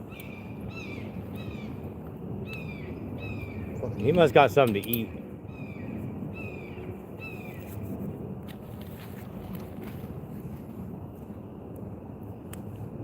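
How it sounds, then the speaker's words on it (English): A hawk calling outdoors: a series of thin, high, repeated cries spaced evenly apart, moderately distant over steady wind and ambient noise, with someone briefly speaking midway. "I think the sound of that hawk is pretty neat"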